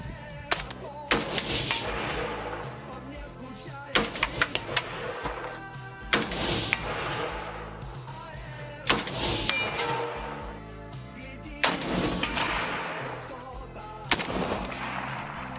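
A Zenitco-modernized SLR 106FR NATO AK rifle with a flash suppressor fires repeatedly outdoors, its sharp loud shots arriving singly and in short pairs every few seconds, each followed by a ringing decay.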